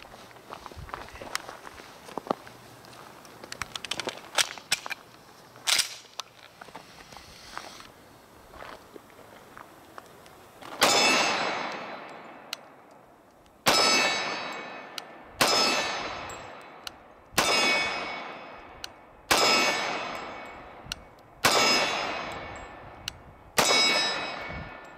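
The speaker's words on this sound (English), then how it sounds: "I'm gonna shoot the Walther PPQ in 45" Walther PPQ pistol chambered in .45 firing seven loud, sharp shots at a steady pace, each with a ringing decay, after a stretch of quieter handling clatter and footsteps.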